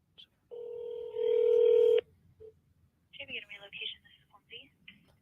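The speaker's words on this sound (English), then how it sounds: "I might have dialed the wrong number" Telephone keypad tones sound as one short beep followed by a sustained two-part tone lasting about a second and a half, then a voice speaks quietly over faint background hiss.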